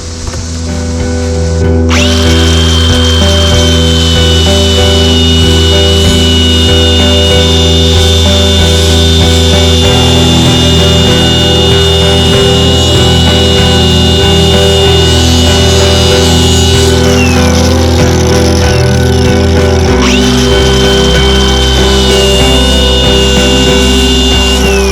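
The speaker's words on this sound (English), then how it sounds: "this is a 36 grit sanding disc on this thing." A power tool fitted with a coarse 36 grit sanding disc grinds steadily against the edges of Rhino Flex-Wing mower blades, a loud, close, continuous whine with slight changes in pitch as the load shifts.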